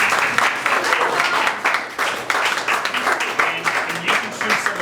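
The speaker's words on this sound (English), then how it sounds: "Everyone give a round of applause." An audience at a winery performance gives a loud, sustained round of applause, with dense clapping that rises and falls slightly for several seconds, and a few voices mixed in.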